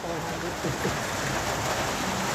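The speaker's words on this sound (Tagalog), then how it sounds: "Inaabot pa kami ng ulan, no?" Steady rain hisses down during a scooter ride in the mountains of Atok, Benguet, a dense close wash of noise that runs unbroken through the whole stretch.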